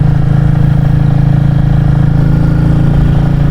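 A Royal Enfield Classic 350 single-cylinder motorcycle engine thumps steadily while cruising narrow country lanes in Wales, loud and close with a constant low rhythmic beat.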